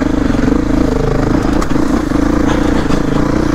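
A Beta 480RR dirt bike engine labours loudly and continuously up a rocky mountain trail, close to the microphone, with rough mid-range growl and occasional clatter.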